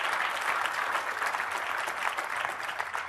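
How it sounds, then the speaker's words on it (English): A conference audience at a Microsoft Ignite datacenter management session claps steadily, a full, even round of applause from a sizable crowd with no talk over it. "We applaud you for that."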